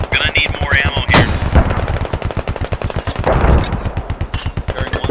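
Rapid, continuous booming gunfire and explosions from the military shooter game Squad, dense and loud, with brief voice chatter over it.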